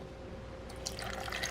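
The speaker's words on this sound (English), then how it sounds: "We're just going to add water" Water poured into a blender jar of cashews for a vegan pizza sauce, a soft trickling splash that starts about halfway through and keeps going under low background hum.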